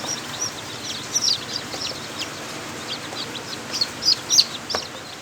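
Chickens and chicks in a chick-rearing nursery coop, with scattered clucks and bright, high peeps rising and falling at a moderate level, several sharper bursts near the end, and no talking.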